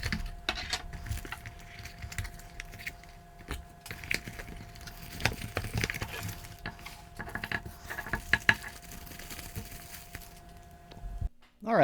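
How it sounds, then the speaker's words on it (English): A Teckin outdoor smart plug is unboxed up close: cardboard scrapes, rustling packaging and small knocks come in irregular bursts against a quiet background. "So let's get this unboxed, take a look at it."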